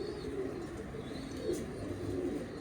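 Prized pigeons kept by a Lahore fancier, soft low cooing repeated close by against a steady background hum, with a faint chirp above.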